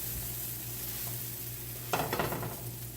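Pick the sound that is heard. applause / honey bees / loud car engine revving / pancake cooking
pancake cooking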